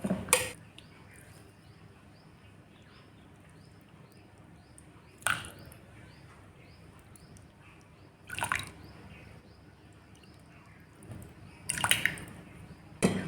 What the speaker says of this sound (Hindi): अब हमें 4 कटोरी यहाँ पे दही डालना है।